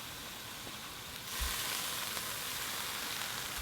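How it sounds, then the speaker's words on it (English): Lemon juice squeezed into a hot pan of green beans sets off a steady, hissing sizzle that swells a little louder partway through, continuous and fairly faint, with no voices. "We're going to grab the lemon, squeeze it in, it's going to sizzle."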